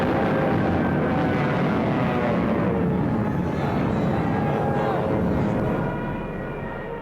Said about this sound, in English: with Stuka dive bombers blitzing just ahead of them